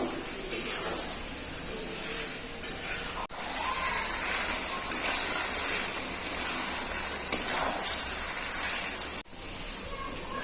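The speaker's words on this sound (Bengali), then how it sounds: "এখন আমি দিয়ে দেবো কেশরি মশলা কষিয়ে নেব" Chicken frying with kesari masala in a pan, a continuous sizzle with occasional scrapes and clatters of stirring, a voice speaking softly underneath.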